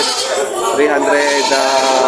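Goats loaded by the hundreds onto a livestock truck for delivery to Cagayan and Pangasinan bleat in a dense, continuous chorus, loud and close, with people talking over the herd.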